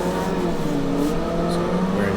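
A race car drifting in Assetto Corsa, its engine droning steadily at high revs with a continuous sustained tone and no pauses.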